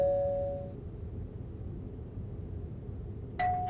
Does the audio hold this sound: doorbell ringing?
yes